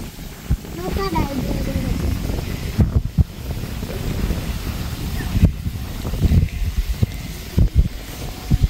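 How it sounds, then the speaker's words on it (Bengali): Strong wind buffeting outdoors in a village by the water during a boat trip, a steady rough roar with gusty bumps, while a person talks throughout. "অনেক বাতাস ছাড়ছে, ওই যে গাছ দেখলে বোঝা যায়।"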